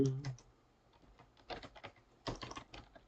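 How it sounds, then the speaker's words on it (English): Computer keyboard typing in short bursts of quick clicks with pauses between them, fairly close and moderately quiet, with no talking over it. "Oh man, my typing is messed up."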